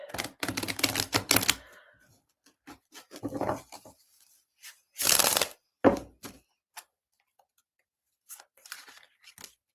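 Playing cards riffled and shuffled in short bursts, crisp rapid flutters separated by pauses, close by with no talking.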